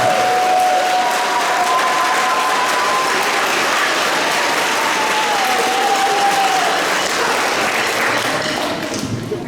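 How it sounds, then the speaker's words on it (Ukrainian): A crowd at the opening ceremony of the Ukrainian Arashido karate championship in Kyiv claps vigorously in a loud, continuous roar of applause, with faint tonal sounds threading underneath. "Давайте поздравим Аловитину бурными аплодисментами."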